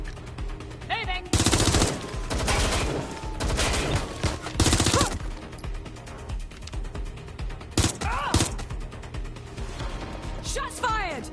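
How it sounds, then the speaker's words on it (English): Loud bursts of automatic gunfire and single shots crack through a Watch Dogs firefight, with heavy volleys near the start and middle, sharp isolated shots later, and voices talking over the shooting throughout. "Shots fired."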